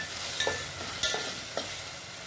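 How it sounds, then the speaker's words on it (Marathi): Potato, onion, tomato and green chili frying together in a pan, with a steady sizzling hiss and a few soft clinks and scrapes of stirring. "बटाटा, कांदा, टोमॅटो, बटाटा, हिरवी मिरची सगळं टाकलेलं आहे. सगळ्याला पूर्ण फ्राय होऊ द्यायचं."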